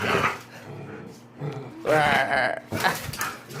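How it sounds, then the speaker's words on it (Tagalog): A small dog, excited and worked up, growls and yips in short bursts with whimpering sounds between them, close by in a quiet room. "Ay, nangyari dito sa asong to?"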